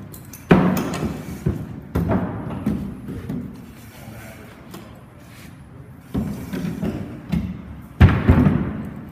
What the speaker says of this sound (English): he's going to be breaking out the window